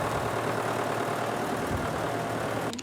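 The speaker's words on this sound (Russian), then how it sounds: "Трактор аккуратно переносит каждый баул и грузит фуру." A tractor engine idles steadily at a rural site as bags of organic flax are loaded onto a truck. The rumble is low and continuous at moderate distance, and a short clatter comes near the end.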